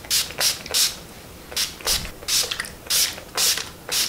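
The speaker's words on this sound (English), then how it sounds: "I'm going to spray my face with setting spray before I put on mascara and lips and stuff." Urban Decay All Nighter setting spray misted onto a face in about eight quick pumps, each a short hissing burst in a steady rhythm, close by with no talking.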